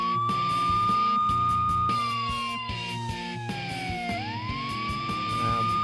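Police car siren wailing in a video game, a loud steady electronic tone sweeping down and back up over a busy background of game music and effects, with no talking.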